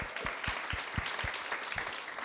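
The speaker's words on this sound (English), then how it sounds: "So let's give Damian a big round of applause." An audience applauds a guest named Damian at a talk on artists and equity, steady crowd clapping with a few sharper individual claps standing out, heard close and on its own.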